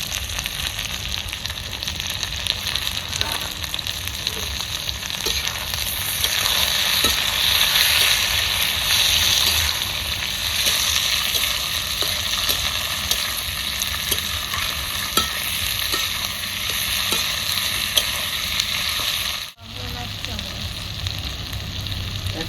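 Tomatoes frying in a pan of chicken curry, cooked in a rustic village style, give a steady close sizzle with repeated stirring scrapes throughout and a brief drop near the end.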